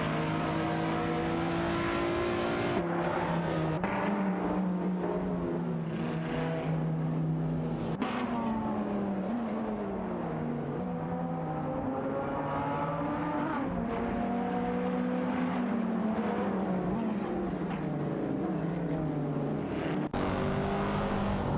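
Engines of AI-driven Vauxhall Astra GTC VXR race cars in a racing video game drone continuously, rising and falling in pitch through gear changes as several cars run close together, steady and fairly loud throughout.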